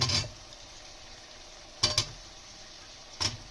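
A spoon or spatula stirs potatoes and peas into spices in a pan, making three short scraping clatters spaced apart over a quiet background, fairly faint and close.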